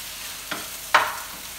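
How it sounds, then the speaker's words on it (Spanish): Fried tortilla pieces for chilaquiles verdes are stirred in a pan, two quick scraping strokes over a soft background sizzle, close and brief. "Vamos a menearle para que se llenen todas las tortillitas"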